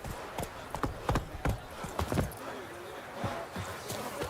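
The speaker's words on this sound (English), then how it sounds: "Oh, it's a horse race." Horse hooves gallop in a video game race, a quick run of close, sharp clip-clop thuds that loosen and fade into softer, more scattered beats over a steady background.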